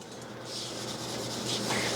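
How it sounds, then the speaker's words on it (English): A cloth rubs a light coating of oil onto a cast iron pan, a close soft swishing friction that builds steadily over two seconds with no talk. "give this a very light coating, get it into the pan itself, the handle as well"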